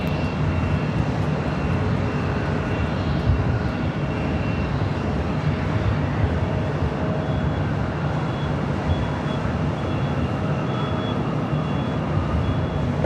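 A Delta Boeing 767-300ER jet departs LAX, its engines making a loud, continuous broadband roar with a faint whine that holds steady throughout, close and unbroken by voices.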